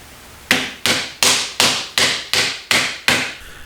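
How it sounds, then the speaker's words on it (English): Light mallet strokes driving a motorcycle grip onto the handlebar of an FJR1300, eight evenly spaced close thuds in quick succession, with no talk. "I'm going to take a little mallet and just going with not very heavily, just light strokes"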